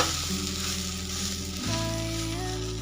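A taro-stalk dhirde pancake sizzles steadily in a pan, a continuous broadband fry hiss with a low background hum, shifting briefly midway as the pancake is flipped, then frying on.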